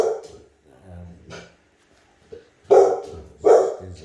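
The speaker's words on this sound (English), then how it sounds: "that's me dog barking" A pet dog barks indoors, a couple of quieter yips followed by two loud, close, sharp barks near the end, with no talking over them.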